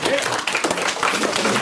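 Audience clapping at a live comedy show, a brisk burst of applause filling the room at moderate loudness.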